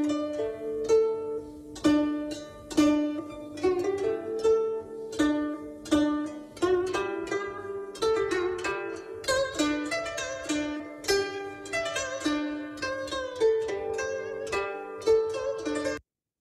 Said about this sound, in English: this kind of beat with the syncopations on the offbeat is called whipped beat